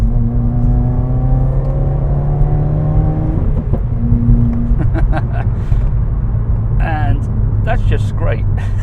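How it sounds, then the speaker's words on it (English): A 2016 Subaru WRX accelerating hard: loud engine drone rising through the gears with a shift, then quick revving bursts near the end, heard from inside with someone talking. "when you're on your own and you want to put your foot down"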